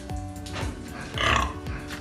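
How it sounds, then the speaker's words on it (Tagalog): Pigs on a farm piggery grunt in short, low, repeated snorts that come close and steady, rising into a louder cluster midway, with no voices. "Ayan naman po yung mga baboy."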